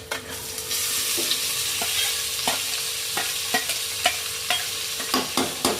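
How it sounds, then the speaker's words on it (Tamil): Onions sautéing in hot oil in a pan for chana masala, giving a loud continuous sizzle with regular sharp spatula scrapes and taps throughout. "இதெல்லாம் வதக்கி எடுத்துக்கணும் இதெல்லாம் வதக்கணும் நல்லா"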